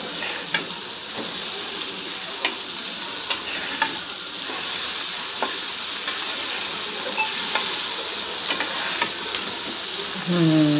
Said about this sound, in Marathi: म्हणजे तिकडे आपले बांगडे पण छान फ्राय होतील पटापट